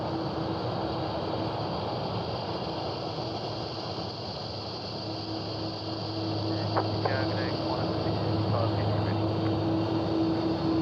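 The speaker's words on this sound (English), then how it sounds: "Look at that beautiful 330-200 taxiing out there" An Airbus A330-200 airliner taxis at Sydney Airport at night, its engines a steady distant whine and low rumble that grows slightly louder midway, with people talking nearby.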